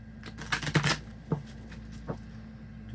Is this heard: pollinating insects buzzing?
no